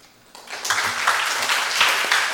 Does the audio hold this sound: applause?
yes